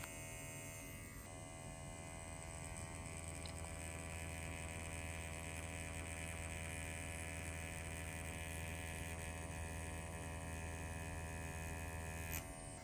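An EZ P6 rotary tattoo machine with a 3-round liner at 3.7 mm stroke runs at about 7 volts, producing a steady, even electric buzz and hum that holds unchanged throughout, quiet and close.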